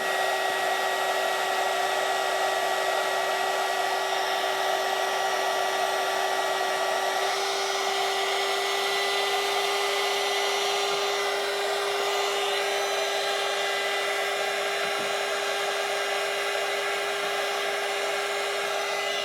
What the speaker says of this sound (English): I'm going to use this heat gun to try to clean it up some.